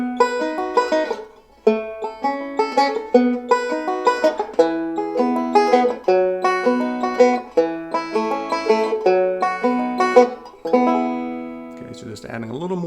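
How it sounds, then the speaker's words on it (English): Banjo playing the melody of a country ballad in steady quarter notes with quick forward rolls filling the gaps, bright plucked notes in rhythmic bursts with brief pauses, close and clear, and a final strum that rings out. "and then you've got a little forward roll in between."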